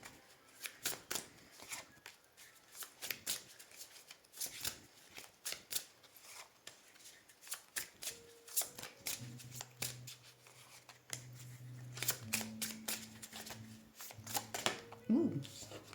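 Tarot cards shuffled repeatedly by hand at close range, a run of quick riffling flutters and soft slaps with short pauses between bursts, while a speaking voice and a low hum come in during the latter half.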